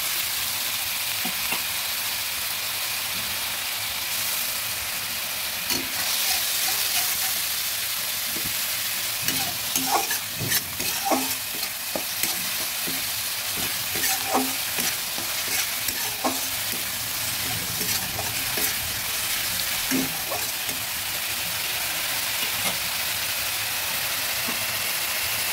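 Onion paste fries in oil for a Bengali doi katla fish curry, a continuous hiss and sizzle with regular scraping strokes of a spoon stirring it around the pan.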